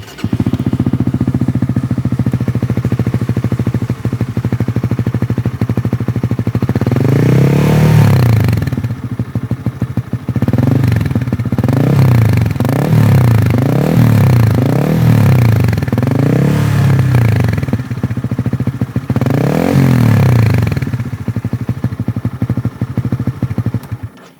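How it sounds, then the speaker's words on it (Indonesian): Honda CB150 motorcycle with a modified exhaust fitted with a dB killer, idling loudly up close with a steady throb, then revved several times in repeated bursts before settling back to idle. "Nah ini gue mau cobain teman-teman biar nggak penasaran suara knalpotnya."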